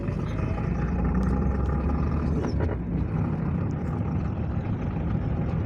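A car is driven smoothly after an engine misfire caused by an inactive body ground was fixed. The engine and road noise form a steady, even drone with no jerking and no voices.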